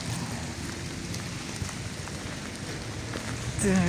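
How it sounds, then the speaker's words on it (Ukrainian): Steady rain patters and hisses on surfaces in Oleksandriia, close and even, with a brief louder sound at the very end. "Дощ конкретно."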